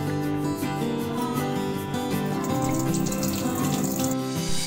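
Steady running tap water pours continuously into a kitchen sink as ingredients are rinsed while an elephant yam curry is being prepared, fairly close and with no voices.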